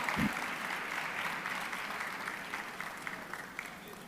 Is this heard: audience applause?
yes